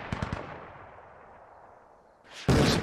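Gunfire in the military shooter Squad: three quick sharp shots at the start, then a low rumbling tail, and a loud broadband blast near the end.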